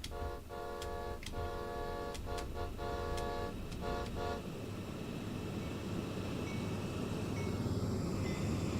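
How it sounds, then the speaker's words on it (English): A locomotive bell rings in Train Sim World 2 on the Cane Creek route, struck in a quick run of evenly spaced clangs over a steady engine rumble, then stopping partway through while the drone carries on alone. "Get the bell on as well."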